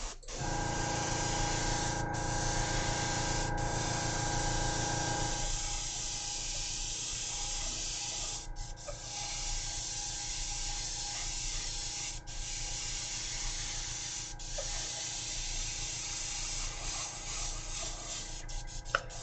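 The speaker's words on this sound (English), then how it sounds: "So when I use the airbrush here," An airbrush spraying paint onto a model wing, a close, steady airy hiss that holds at an even level throughout, broken only by a few brief clicks and no talking.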